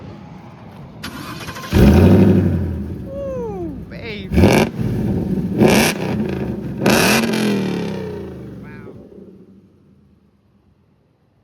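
A supercharged 2015 Ford F-150 with a 5.0 engine revs hard from a standing start, its loud rising whine climbing through several gear changes before fading into the distance, with someone exclaiming near the start.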